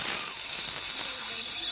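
Steady, loud hiss of refrigerant oil being drawn into a freezer system during gas charging, continuous and close with no break.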